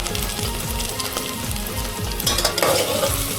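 Cumin seeds crackling and sizzling in hot oil in a pot for prawn biryani, a dense close frying hiss with stirring scrapes, growing louder near the end.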